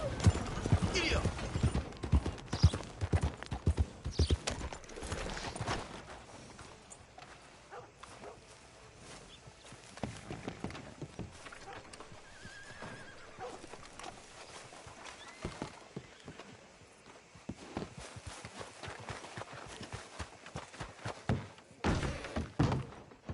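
A horse's hooves clip-clop at a steady trot in the video game Red Dead Redemption 2, with a dog barking among them and speech in the mix.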